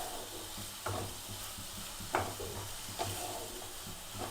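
Spices fry in hot oil in a pan for an egg and cauliflower curry, a soft continuous sizzle with occasional stirring scrapes and clinks, close and fairly quiet, no talking.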